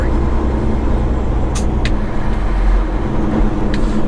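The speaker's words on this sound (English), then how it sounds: "So 20 miles an hour is a little slow for this massive jake that we have." A heavy truck with an X-15 engine descending a steep grade with its jake brake engaged, a loud, continuous low rumbling drone with brief hissing bursts midway and near the end.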